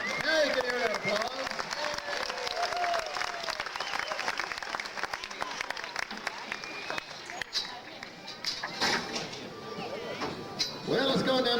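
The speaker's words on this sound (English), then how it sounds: "Now you can hear that applause." Crowd in the stands at a rodeo applauds after a bronc ride, broad clapping and cheering at a distance while an announcer keeps talking over it.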